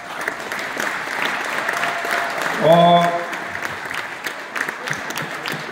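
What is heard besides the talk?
audience applause at a boccia tournament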